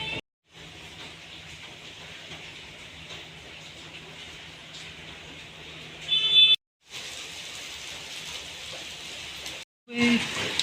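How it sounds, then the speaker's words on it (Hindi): Steady broadband hiss of heavy monsoon-style rain pouring continuously in Delhi, with a low hum beneath and a couple of brief breaks in the sound. "सुबह से बारिश हो रही है, झमाझम झमाझम सुबह से बारिश"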